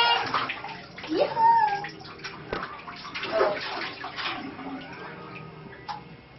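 Children splash and play in bath water while someone runs a bath, with water sloshing and small bursts of splashing under frequent close voices and chatter throughout.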